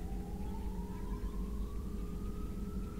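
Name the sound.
siren in the background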